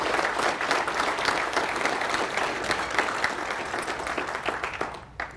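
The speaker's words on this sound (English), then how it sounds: "give our school system a round of applause" An audience applauds the local school system at a city state-of-the-address event, a full, sustained round of clapping that tapers slightly at the very end.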